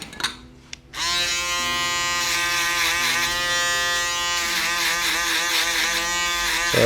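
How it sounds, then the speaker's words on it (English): An electric foil shaver finishes a low fade on a curly-haired man. After a brief quiet start it gives a close, loud, steady buzz that stays constant to the end. "I'm going to come in and foil it out."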